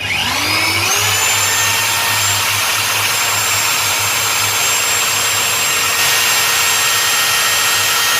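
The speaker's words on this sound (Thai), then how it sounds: "เดี๋ยวผมจะใช้ สว่านนะครับ" An electric drill's steady, high-pitched motor whine spins up and holds constant for several seconds, running on 220-volt inverter power, loud and close with no talking.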